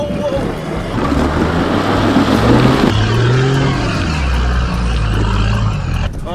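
A 4WD vehicle revs hard on a rocky bush track at Toolangi, its engine loud and close, climbing and falling in pitch as it pops a wheelie.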